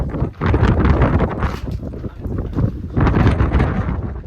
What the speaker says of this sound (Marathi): एवढा वारा चालू आहे ना वरती